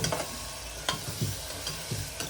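Rajma masala rice being stir-fried in a pan, a steady close sizzle with repeated scraping strokes of a spoon against the pan at an easy rhythm, no voices.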